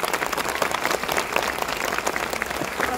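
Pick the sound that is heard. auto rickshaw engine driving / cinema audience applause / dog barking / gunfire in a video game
cinema audience applause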